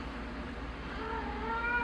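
A pet cat meows in a drawn-out, rising call at close range, clear over a quiet room background with nobody talking.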